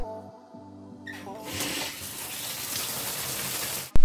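Cold shower water starts running, a soft broadband hiss that builds after a quiet moment and continues steadily at close range, with no talking.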